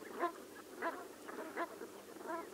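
Soft, throaty brent goose calls come in several short bursts, faint and somewhat distant, murmuring back and forth.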